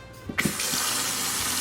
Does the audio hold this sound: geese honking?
no